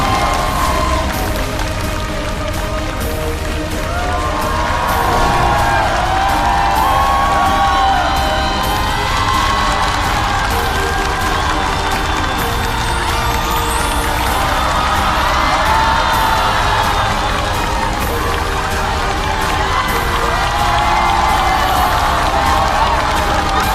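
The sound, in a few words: audience applause and cheering welcoming guests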